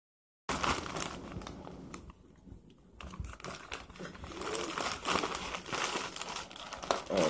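Close, busy crinkling of a plastic bag being handled, with a brief quieter pause before the rustling picks up again.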